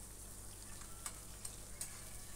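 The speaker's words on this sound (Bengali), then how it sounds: "এরপরে পেঁয়াজটা একটু লাল লাল করে ভেজে নিচ্ছি।" Chopped onions fry in oil in a pan for a chicken curry, giving a faint, quiet sizzle with a few soft crackles and stirring clicks.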